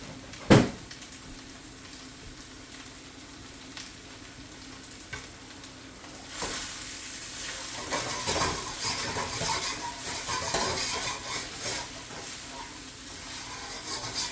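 Fried rice with scallions, shallots, garlic, ginger, peas, soy sauce and sesame oil sizzles in a wok, a sharp metal clank at the start, then frying grows louder with stirring scrapes.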